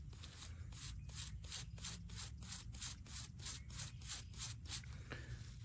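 A worn, smooth, dug-up old copper coin from South Carolina relic hunting is rubbed clean in quick, steady strokes, about two per second, close and continuous with no talking.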